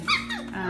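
A five-week-old F1b Goldendoodle puppy lets out one short, squeaky, high-pitched yap that is close and fairly loud.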